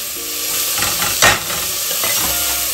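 Onion and green chillies fry in oil over high heat, making a loud, steady close sizzle and hiss, with one brief burst of stirring in the middle.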